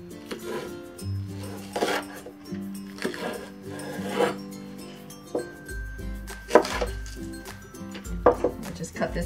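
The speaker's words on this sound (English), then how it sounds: "And next, we'll cut the green onions." A knife chops green onions on a board with a series of irregular, moderately loud knocks. A voice talks alongside the cutting.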